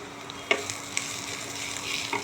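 Ground spices (coriander, cumin and a little chili powder) sautéing in a frying pan, a soft steady sizzle broken by a few sharp clicks of a utensil stirring against the pan.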